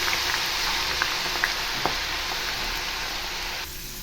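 Potato slices deep frying in hot oil make a dense, continuous bubbling hiss, close and fairly loud, with scattered small pops and no talking.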